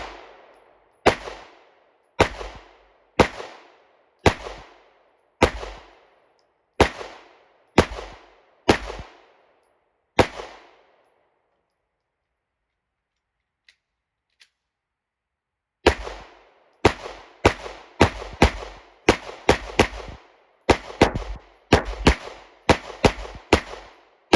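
Smith and Wesson SW9VE and SD9VE pistols fire in quick strings about five or six yards from the target: a run of evenly spaced shots, a pause of several seconds, then a faster, denser volley, all loud and close.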